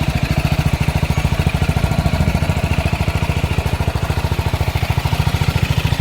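Small electric air pump running steadily to inflate a car tyre, a close, continuous motor buzz with a rapid regular pulsing throughout, fairly loud and alone.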